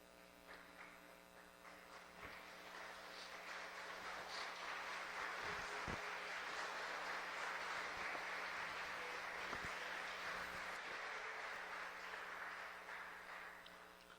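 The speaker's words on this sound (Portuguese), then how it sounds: "Fique de pé no seu lugar e aplauda ao Rei." A church congregation at a Baptist anniversary service claps together, a steady broad wash of applause swelling and holding under a faint electrical hum, with no talk over it.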